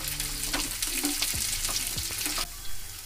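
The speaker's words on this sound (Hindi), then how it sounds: "2 tablespoon बारीक कटा हुआ अदरक, 2 tablespoon बारीक कटे हुए लहसुन। इनको डालकर अच्छी तरह से हम 1 मिनट तक सॉटे कर लेंगे।" Finely chopped ginger and garlic sautéing in hot oil for biryani (khushka) rice, a steady close sizzle with a few scraping stir strokes, ending slightly quieter, no voices.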